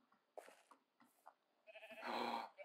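Sheep bleating in the Minecraft video game, a couple of short game-animal cries followed by a louder, longer bleat near the end, with no talk over them.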